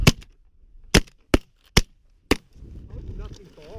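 Shotgun blasts during a goose hunt in a Minnesota snowstorm: five sharp, loud shots fired in quick succession outdoors, followed by windy rustling and distant honking geese.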